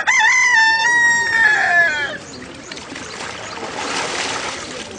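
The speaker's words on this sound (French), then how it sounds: "un coq a salué son baptême" A rooster crows loudly at about 7:55 in the morning during an outdoor baptism by immersion, the harmonic call lasting two seconds before giving way to a wash of background noise.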